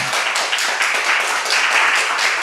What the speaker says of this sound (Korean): 우리 박명룡 목사님께 다시 한번 감사의 박수 한번 보내주시면 좋겠습니다